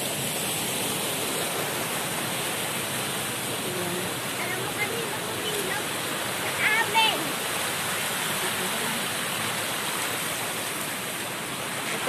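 River water rushes in a steady, close hiss while laundry is rinsed in it, the broad flowing noise unbroken for the whole stretch, with a faint voice now and then.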